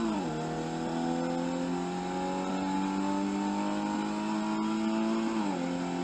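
A car engine in the Car Mechanic Simulator game revs steadily upward for several seconds, a loud, sustained whine that climbs in pitch, then drops briefly near the end as if shifting.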